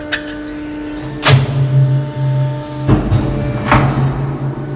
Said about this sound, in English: This is a 2006 3/8 over 12-foot hydraulic shear. I'll go ahead and cycle it a few times for you.